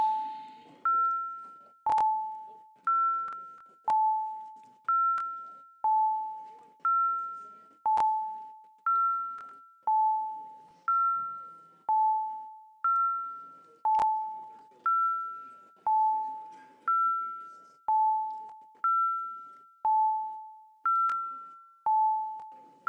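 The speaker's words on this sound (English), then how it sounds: "let's ring the bells" Voting bells in a city council chamber ring steadily in a repeating two-tone ding-dong pattern, about fifteen chimes at an even pace, clear and alone with no talk.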